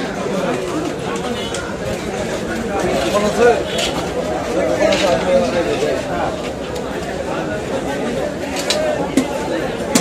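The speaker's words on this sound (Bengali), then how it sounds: "ঢুকলাম কাঁচা বাজার হাটে।" A busy open-air vegetable market, with dense crowd chatter and overlapping voices all around, steady and fairly loud, plus occasional clatter of goods.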